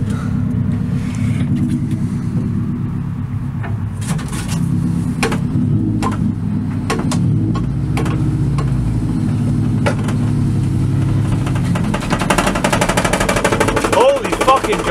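A right-hand-drive wagon with a breaking drive shaft, heard from inside as a steady engine rumble under repeated sharp clunks and rattling knocks, with voices talking over it.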